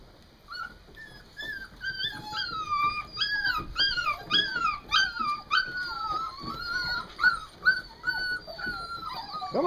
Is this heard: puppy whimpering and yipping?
yes